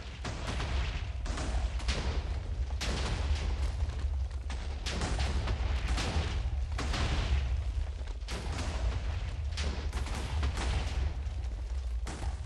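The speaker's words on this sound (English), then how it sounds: "this explosion will go on till the farlands, but it's just a little bit slow because the computer can't handle it in real time anymore" A Minecraft explosion in a superflat world crackles on as a continuous stream of dense, booming bursts, slightly slowed, with no pauses over the whole stretch and no voices.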